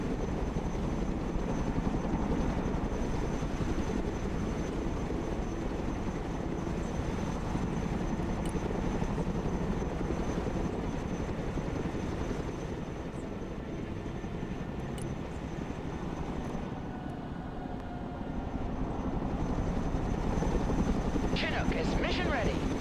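A Chinook heavy-transport helicopter in the video game Broken Arrow gives a steady, broadband rotor and engine drone that runs continuously and fairly loud throughout, with brief higher chirps near the end.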